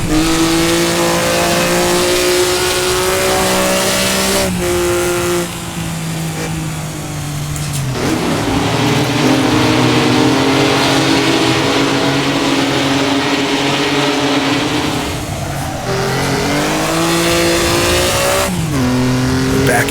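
A Maserati 250F in a racing sim howls loudly as it downshifts to first gear and slides through a corner, its revs dropping and then surging, with abrupt pitch changes at each shift across the continuous engine roar.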